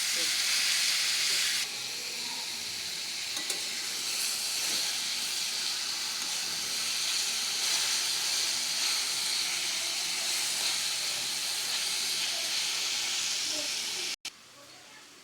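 Radish fry sizzles steadily in a pan with salt while being stirred, a continuous loud hiss running almost the whole time before cutting out near the end.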